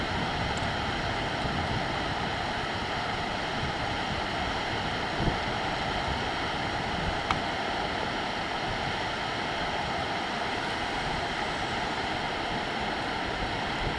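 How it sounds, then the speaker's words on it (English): Water rushes freely through cleared drainage tunnels at an airport construction site, a steady broadband roar that stays constant and unbroken throughout, with no voices. "they are now cleared, and the water is flowing freely through"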